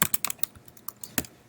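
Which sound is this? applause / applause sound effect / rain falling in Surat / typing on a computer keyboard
typing on a computer keyboard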